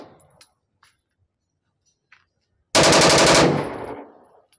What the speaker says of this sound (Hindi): अब ये मुख्तलिफ जगहों पे सब एरियल फायरिंग है और ये वेपन टेस्ट हो रहा है।